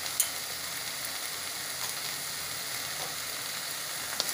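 A spiced masala gravy for butter chicken fries in a pan under a steady, even hiss of sizzling that stays close and constant, with a faint clink near the start and end.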